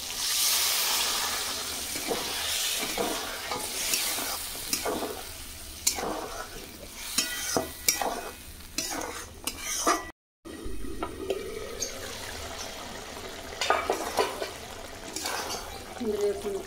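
A small splash of water goes into a pan of frying spices and onions for rui fish do-peyaji, giving bursts of watery hissing and bubbling while someone talks.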